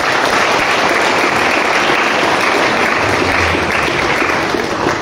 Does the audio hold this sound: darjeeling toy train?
no